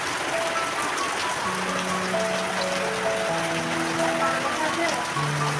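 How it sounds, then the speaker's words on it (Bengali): Heavy rain pours down onto a roof and ground, a dense, constant hiss of drops at close range with no break, while people talk faintly underneath. "খুব জোরে বৃষ্টি শুরু হয়েছে বন্ধুরা"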